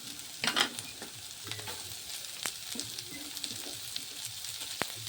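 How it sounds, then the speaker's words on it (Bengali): Chopped carrot and chicken fry in a pan for chicken soup while a spoon stirs, giving scraping strokes and clacks over a soft, steady sizzle. "গাজর কুচিটা দিয়ে একটু ভালো করে নাড়িয়ে চাড়িয়ে নেব"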